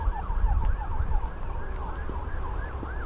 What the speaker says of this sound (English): Bit worrying when you still hear the sirens so much.